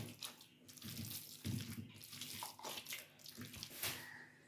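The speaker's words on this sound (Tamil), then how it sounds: "கொஞ்சம் தண்ணியை ஊற்றி தேவைக்கு கொஞ்சம் தண்ணியை ஊற்றி" Water splashes and trickles in uneven bursts as it is poured into flour for roti dough, close up and fairly quiet, with no talking.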